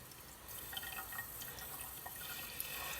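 Faint water running from a tap to rinse a fidget spinner bearing during cleaning, a soft steady trickle with small splashes and drips, no talking.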